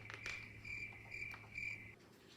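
A cricket chirps in steady bursts, high and thin, repeating about every half second against a quiet background hum, fairly faint and alone.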